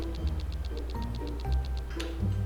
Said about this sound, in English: I hear it ticking.